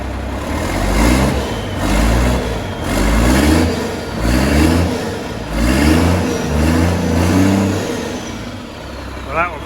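An overland truck engine revs repeatedly in loud surges, rising and falling in several bursts before settling toward idle, with a voice faintly present.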